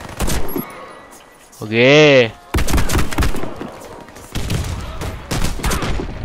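A VEPR gun fires repeatedly in the Warface shooter game, loud sharp bursts of close gunshots broken by a short tonal electronic tone, with a man's brief exclamation among the shots.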